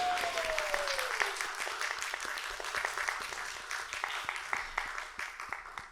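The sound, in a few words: audience applause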